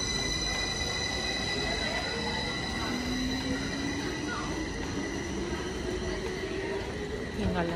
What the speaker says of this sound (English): This train is going to Zurich.